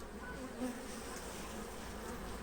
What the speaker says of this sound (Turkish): E, polenli arıları görüyorsunuz arkadaşlar.